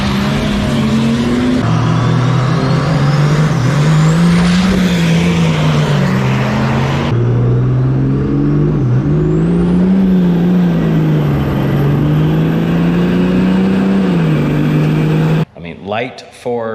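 A big, fast diesel race truck drones loudly and close by as it drives. Its engine note rises and falls through shifts for a sustained stretch, then cuts off abruptly near the end.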